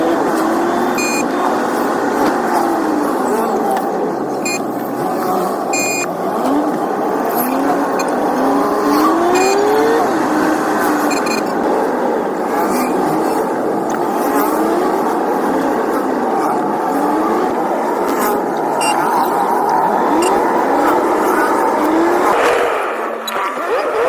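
Jammed traffic at BCG Chowk fills the air with a loud, constant roar of engines and road noise, broken by scattered horn toots and rising engine whines, all close and continuous.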